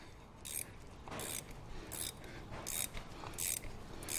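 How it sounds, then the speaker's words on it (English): A long-reach 13mm ratchet spanner clicks in repeated bursts as it turns a tight fastener on a Ford Transit Connect during clutch work, with steady ratcheting strokes close by. "This is now a long reach 13mm ratchet spanner."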